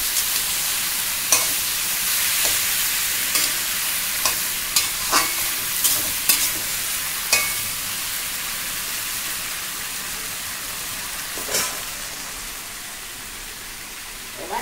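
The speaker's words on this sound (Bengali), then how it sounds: "কষে নেই ভালো করে, কষে তারপরে ঢাকা দিয়ে দেবো" Kochur loti (taro stolons) and hilsa fish stir-fried in a pan, a steady sizzle broken by repeated sharp scraping clicks of a spatula against the metal, close and fairly quiet, with no talking.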